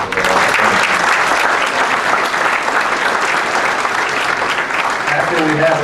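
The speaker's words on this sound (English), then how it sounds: "So a round of applause for them." An audience at an ordination reception claps in sustained, loud applause filling the room, with a few voices mixed in among the crowd.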